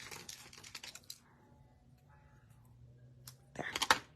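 Scissors snip the ends of paper strips in a quiet crafting session, a few quick crisp cuts near the start, a soft pause with faint rustling, then a louder burst of snipping and paper handling at the end.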